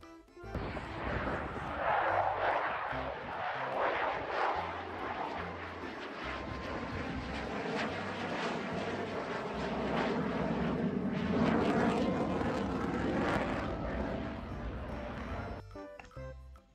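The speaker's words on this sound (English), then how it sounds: "Fighter jet plane. Fighter jet plane." A fighter jet flying, a loud sustained roaring engine rush that swells and holds for around fifteen seconds before cutting off.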